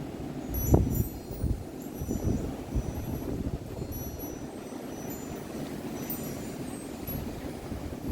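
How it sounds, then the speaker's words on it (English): Steady outdoor wind rushes and buffets across the microphone, a low broadband roar with a few stronger gusts early on and faint distant traffic-like rumble, no talking. "You can hear the wind."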